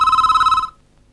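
A telephone rings at night with a single loud electronic trill, steady and warbling for about half a second before stopping into silence.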